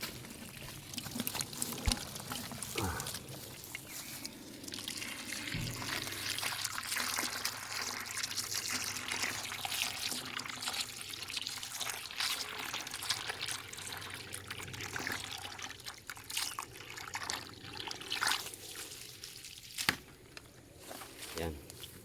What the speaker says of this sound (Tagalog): Lagyan natin ng konting tubig yan.